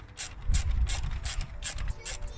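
A ratchet clicks in quick repeated bursts while tightening a clamp on a cheap Halfords induction kit fitted to a Vauxhall Astra Mk4, close and fairly loud, with no talking.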